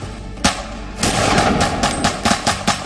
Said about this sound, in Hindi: ताबड़तोड़ फायरिंग होने लगी।